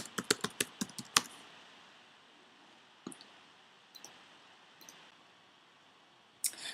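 Rapid computer keyboard typing opens with a close burst of crisp keystrokes, followed by a few isolated clicks spread over an otherwise quiet stretch and a final short tap cluster.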